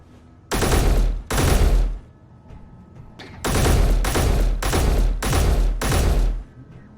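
Bursts of automatic gunfire in the video game Space Engineers strike targets on an indoor shooting range: two short volleys, a pause, then five rapid bursts in quick succession, loud and close.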